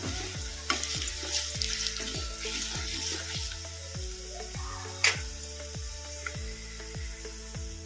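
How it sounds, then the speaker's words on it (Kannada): Garlic and dried red chillies fry in a pan with a soft, continuous sizzle while a spoon scrapes and taps out an even stirring rhythm, about one stroke every half second; no voices. "ಈಗ ಸ್ವಲ್ಪ ಫ್ರೈ ಆಗಿದೆ ಬೆಳ್ಳುಳ್ಳಿ ಈಗ ಒಣಮೆಣಸಿನ್ಕಾಯಿ ಹಾಕೋಣ ಕಲಿಸ್ಕೊಂಡ್ಬಿಡೋಣ"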